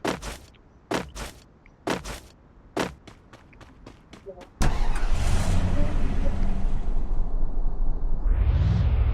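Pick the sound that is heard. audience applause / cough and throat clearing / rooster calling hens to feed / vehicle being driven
vehicle being driven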